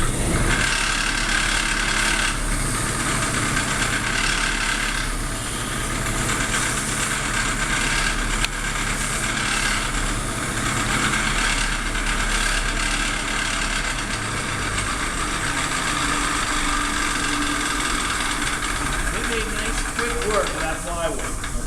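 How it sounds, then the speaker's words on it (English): A workshop sander runs continuously and loud, a steady hissing, whirring drone that holds unchanged for the whole stretch with no one talking over it. "it's a sander, but it's no joke because, I'll turn it on for you"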